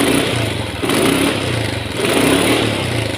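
A Yamaha Mio scooter engine runs loud and close during a test, holding a buzzing idle with gentle rises and dips in revs, no talking over it.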